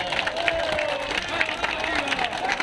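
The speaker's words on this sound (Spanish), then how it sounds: "Fuertes palmas para el congresista Ale Flores" Audience at a political gathering in honour of a congressman applauds and cheers, a dense, fairly distant burst of clapping with crowd babble mixed in.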